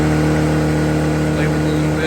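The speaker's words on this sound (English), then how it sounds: "you can twist the throttle here and get it kind of high" Small Honda Metropolitan scooter engine, one that had trouble starting after sitting, runs steadily near and loud as the throttle is twisted up to a high, buzzing rev, with a person talking over it.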